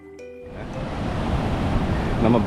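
Rough sea waves surging at Tanah Lot, Bali, a continuous broad roar of surf building in loudness across the clip, with no voices heard.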